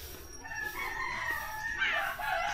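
Rooster crowing outdoors at a beach in the Philippines, one drawn-out crow rising and then breaking off, moderately distant and fairly quiet.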